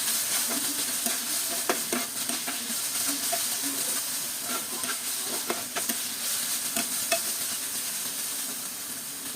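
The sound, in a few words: stirring prawns frying with spices in a pan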